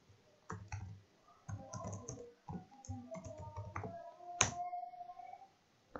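Computer keyboard typing and mouse clicks while entering a password during software setup, a close series of quick irregular taps and clicks with short pauses, one sharper click near the end, no talking.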